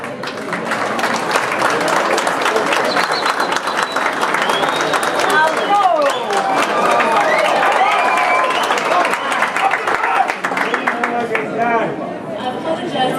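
Applause from an audience at a training event welcoming football players from Orlando Pirates, loud and steady throughout, mixed with crowd chatter and voices.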